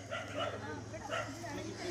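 An injured dog gives short, high, strained whimpers and yips close by, broken into brief bursts, while people talk over and around the cries.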